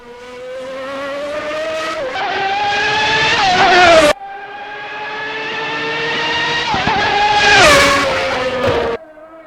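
A McLaren MP4 Formula 1 race car in the Assetto Corsa racing game screams through two long, rising full-throttle pulls, the engine note climbing loud and close before each sharp upshift and cut.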